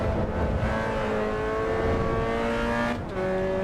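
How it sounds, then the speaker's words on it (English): A race car engine revving steadily in the Assetto Corsa EVO racing game, a loud continuous whine with rising harmonic tones and a brief dip near the end, no talking. "It's fun to rev out."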